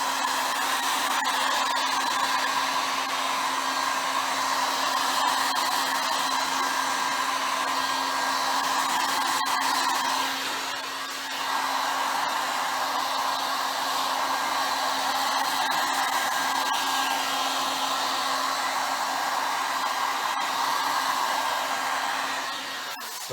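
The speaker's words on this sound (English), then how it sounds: "So now I'm going to take my heat gun and I'm going to soften that up just a little." Heat gun blowing steadily on Stone Coat epoxy during a brown marble countertop pour, a loud continuous hot-air whoosh with a steady motor whine, dipping briefly about halfway through before resuming alone.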